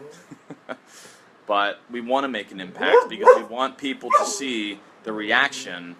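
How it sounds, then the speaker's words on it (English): A pet dog barks and yips in a home, giving a few short sharp barks at first, then someone talks steadily over the quieter dog sounds. "So, that's my dog barking."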